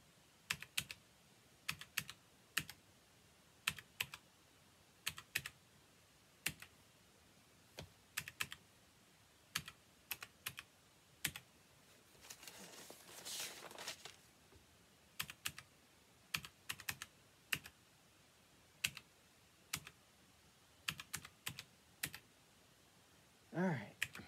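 Computer keyboard keys click in quick, irregular bursts while budget figures are typed, close and fairly quiet in an otherwise still room, with a brief rustling patch midway.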